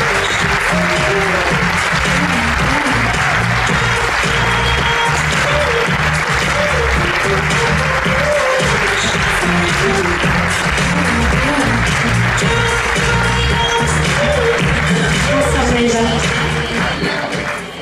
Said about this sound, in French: Je vous demande d'applaudir très fort Miss France 2018, Maëva Cook.